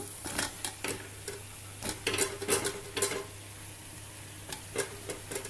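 Eggplant pieces drop into tomato frying in oil for a Telugu eggplant and dried fish curry, giving a soft steady sizzle broken by repeated light clinks and scrapes of stirring, close up and with no talking.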